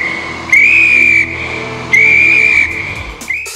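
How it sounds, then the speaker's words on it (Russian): A safety whistle from a life vest, blown twice in long shrill blasts of about a second each, loud and close, with a short chirp at the end. "А, это свисток."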